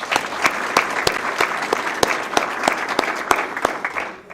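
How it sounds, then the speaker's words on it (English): An audience at the Mayor's employee recognition awards applauds the nominees, dense clapping rising loud and close with sharp individual claps standing out, then tapering off at the end. "Let's have a round of applause for those"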